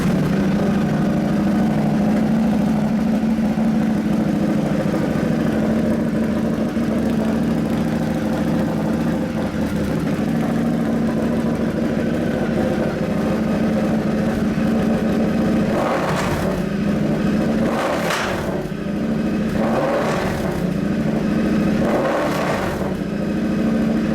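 A Triumph FTR1200S motorcycle fitted with a Toce low-mount exhaust idles loud and close with a steady, deep burble, then gives several short throttle blips toward the end; no one speaks.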